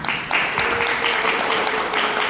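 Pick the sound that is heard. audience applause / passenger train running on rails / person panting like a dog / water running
audience applause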